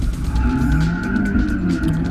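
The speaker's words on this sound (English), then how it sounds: "Gets the car out of shape on the handbrake." A Toyota Starlet slides through an autotest on the handbrake, its engine roaring loudly and continuously as the tyres skid and scrub across the surface.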